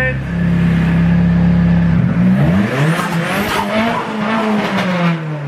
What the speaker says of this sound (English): So, I'll leave you with a couple revs.